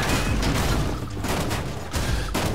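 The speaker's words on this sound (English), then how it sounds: "Explosions everywhere." Explosions rumble and crackle in the video game Goat Simulator, a dense, loud, continuous barrage of booms and bursts with no pause.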